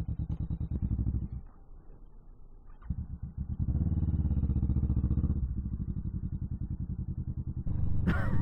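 Motorcycle riding past road construction, captured by a Sena helmet mic into a Tascam DR05, a steady close engine drone with rises in revs, some clatter and a burst of wind noise near the end.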